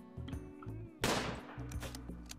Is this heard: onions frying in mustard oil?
no